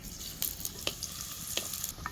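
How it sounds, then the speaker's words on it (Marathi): Steady sizzling of chopped onion frying in hot oil for chicken pulao, with scattered sharp crackles and pops over a continuous hiss, fairly close and with no voices. "दोन पळी तेल गरम करायला ठेवलंय आता ही कांदा एक चिरला ह्यात टाकून घ्यायचा"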